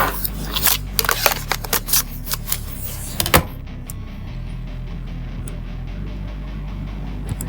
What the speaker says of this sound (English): I pull out my calculator